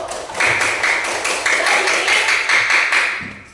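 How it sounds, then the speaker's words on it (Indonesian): Classroom applause for a student named Faiz during an economics lesson, a steady wash of many hands clapping together for about three seconds, fairly close and even, with no talking over it. "Beri aplaus untuk Faiz dulu"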